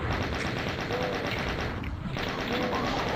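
In the Doom video game, chaingunner enemies fire dense, continuous rapid gunfire that sits loud and close throughout, with only a brief dip in the middle.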